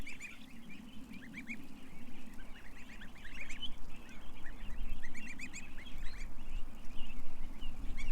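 Ducks beside a stream give steady overlapping quacks and honking calls over a constant background wash of flowing water, the calls fairly close and continuous throughout.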